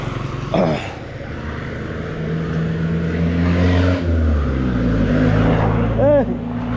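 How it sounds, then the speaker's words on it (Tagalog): Traffic flows steadily along a busy road, engines droning and swelling as cars and motorbikes pass close by one after another, with a horn-like warble near the end and voices talking faintly underneath. "Ang daming sasakyan ngayon guys"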